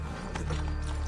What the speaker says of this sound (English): We'll take a horse.